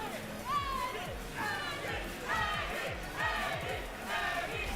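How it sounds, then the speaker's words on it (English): Crowd noise at a Tekken 8 fighting game tournament: rising waves of cheering and shouting in regular bursts, layered over commentary talk and steady arena hubbub. "I don't know who's cheering for my man"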